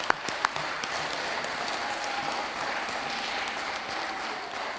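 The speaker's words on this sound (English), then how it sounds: "must clap hands for that father who's responsible" An audience at a public hearing on a children's amendment bill in Frankfort, Mafube Local Municipality, breaks into sustained applause, a dense even patter of many hands with a few sharper claps near the start.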